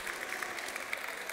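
Steady applause from an audience at a Hearthstone esports final, faint and continuous, with scattered claps standing out from the wash.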